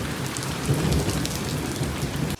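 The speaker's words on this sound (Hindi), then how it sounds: "चेक करें बारिश कितनी तेज आ चुकी है।" Heavy rain pours down in a loud, continuous roar with a low rumble of thunder underneath, cutting off abruptly at the end.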